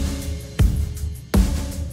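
A muddy, unmixed drum submix groove: two heavy kick-and-snare hits land about three-quarters of a second apart, with a boomy, cluttered low end ringing between them, loud and close with no voices.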